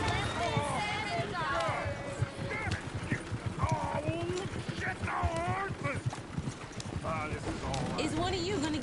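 Hooves of horses pulling a coach in Red Dead Redemption 2 clip-clop in a brisk, steady rhythm, with occasional snorts and whinnies, under game dialogue and voices.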